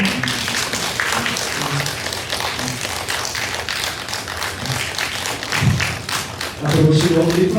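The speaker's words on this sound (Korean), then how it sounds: "우리 함께 박수로 환영해 주시고" A church congregation claps together to welcome newly baptized members at a Sunday service, a steady wash of applause filling the room, with voices rising under it toward the end.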